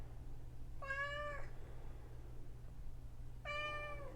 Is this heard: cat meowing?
yes